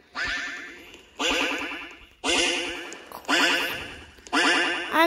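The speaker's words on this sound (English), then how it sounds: "That duck is very close to me." Five repeated synthetic duck quacks in a Roblox obby game, each a bright, loud burst about a second apart that fades before the next.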